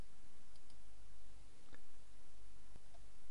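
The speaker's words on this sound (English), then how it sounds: "Do right click and copy." A few sharp computer mouse clicks, a right-click to copy, spaced out over a steady background hiss, close and fairly quiet.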